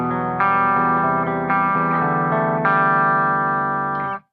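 A clean guitar tone played through an amp, with sustained chords ringing in several strummed hits, loud and close with no talking, then cutting off abruptly.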